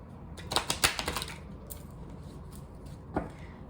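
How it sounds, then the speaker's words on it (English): Quick crisp riffling of mini Rider tarot cards being shuffled, a burst of rapid soft flicks followed by a pause and one more short ruffle, close up. "I'm just shuffling."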